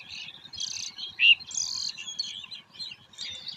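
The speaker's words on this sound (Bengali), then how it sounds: "শালিক পাখিগুলা এত সকালবেলায় তাদের যে প্রয়োজনীয় আহার সংগ্রহ করতেছে" Common myna birds chirp and call busily while foraging in a maize field in the early morning, bright overlapping tweets near and loud, with a steady insect-like ticking beneath.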